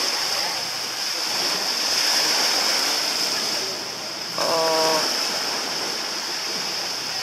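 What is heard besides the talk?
waves on a small beach in Thailand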